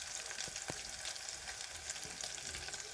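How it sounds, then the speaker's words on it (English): Beef fries in a pan for cabbage and beef stew, a steady close sizzle with a few sharp crackles and the scrape of stirring. "I normally fry my meat when it is like that"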